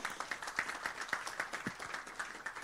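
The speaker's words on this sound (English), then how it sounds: "Another round of applause, please." Scattered, moderately faint applause with individual claps audible, rising and falling steadily for a few seconds.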